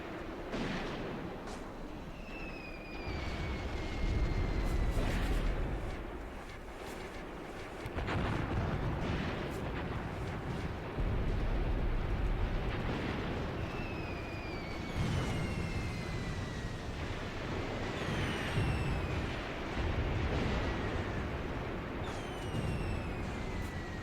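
Artillery fire in the World War II tactics game Graviteam Tactics: dull distant booms over a constant low rumble of wind, with thin whistling shells descending now and then across a long night barrage.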